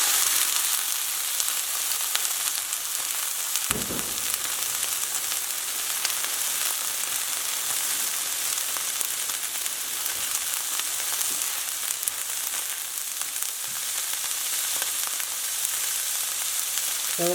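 Rinsed steak strips dropped into a hot pan for a steak and Brussels sprout stir-fry, sizzling and frying in a steady, dense hiss with one brief clatter from stirring partway through, no voices.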